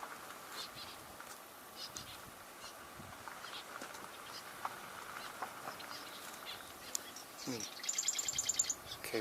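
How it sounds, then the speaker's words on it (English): Marsh wren singing close by in a marsh in midsummer, its rapid chattering song rising near the end over an outdoor background of other bird calls and distant ambient noise. "we're hearing a marsh wren close by"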